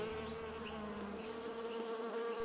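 Bees buzz near beehives at a beekeeping project, a steady close drone with some low humming, continuous and alone with no talk.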